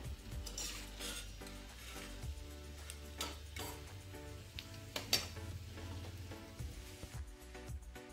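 Kachori deep-frying in hot oil, a quiet steady sizzle and crackle with occasional clinks and ticks of a utensil against the pan, close and faint.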